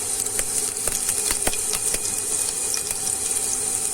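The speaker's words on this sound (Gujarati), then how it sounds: "હવે થોડું આપણે જીરું ઉમેરીશું આખું" Whole cumin seeds crackle and pop in hot oil, a rapid scatter of sharp sizzling clicks over a steady hiss, close and fairly loud.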